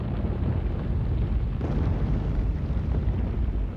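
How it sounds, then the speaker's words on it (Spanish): A supernova explosion rendered as a deep, sustained rumbling roar, loud and continuous with a soft swell midway, dense low-end energy and no voices. "el colapso gravitacional que causa la explosión de una supernova"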